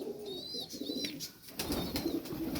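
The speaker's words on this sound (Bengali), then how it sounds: "একদম পারফেক্ট একটা কবুতর" A Chatwala pigeon coos in a loft, soft throaty calls repeating close by, with a few thin chirps from other birds mixed in.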